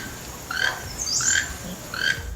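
A toucan gives three rough calls, a harsh cackle blended with a frog-like croak, spaced about half a second apart and moderately close over a quiet background.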